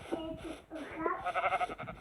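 A sheep in Minecraft Pocket Edition bleats briefly in a short wavering cry, with a person talking alongside it.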